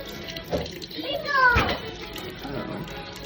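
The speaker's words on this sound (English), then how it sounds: "let me give it a rinse for you." A rock being rinsed under running water, a soft close trickle and splash beneath a person talking, with a brief louder gush in the middle.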